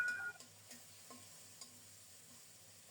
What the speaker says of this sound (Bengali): ঢেকে ঢেকে নেড়ে চেড়ে খুব সুন্দর মতো মশলাটাকে কষিয়ে নিয়ে